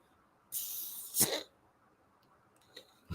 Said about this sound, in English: That was me cracking the beer.